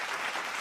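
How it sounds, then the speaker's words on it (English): Applause from a small group welcoming a co-host onto a live basement show, a short steady burst of clapping with no talk over it. "Clapping for her."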